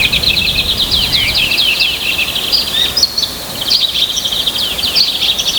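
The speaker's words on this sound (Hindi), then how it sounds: "सुबह होते ही पक्षियों की चहचहाहट और बैलों की घंटियों की आवाज पूरे गांव में गूंजने लगती थी" Small birds chirp and twitter without pause in a village at dawn, a dense, bright chorus that stays fairly close and steady, with a soft hiss of insects underneath and no voices.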